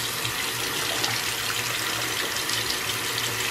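A bathroom tap runs steadily, filling a container with water for a homemade grout cleaner; the loud, even gush continues without a break and no one speaks.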